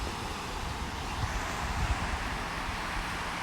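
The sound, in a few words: wind blowing on the beach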